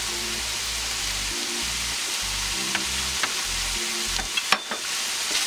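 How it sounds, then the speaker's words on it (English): Mushroom and celery filling for Ghana meat pie sizzling in a pan while being stirred, a constant soft hiss broken by low scraping strokes and a few light clicks, close by with no talking. "give a nice stir."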